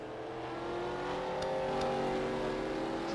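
NASCAR Racing 2003 stock cars at Mid Ohio, a sustained, even engine roar with layered tonal drones rising slightly in pitch as the field runs past, moderately loud with no break.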